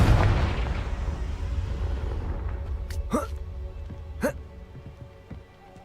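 Confringo blasting spell explosions in Hogwarts Legacy: a loud booming burst fading out, then two sharp whooshing spell blasts, with a voice casting in between.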